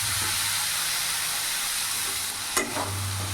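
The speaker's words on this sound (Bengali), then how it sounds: "এরই মধ্যে কেটে রাখা বেগুনগুলো দিয়ে দেবো।" Cut eggplant going into a hot pan of spices, giving a steady loud hissing sizzle throughout, with a brief clatter near the end and no talking.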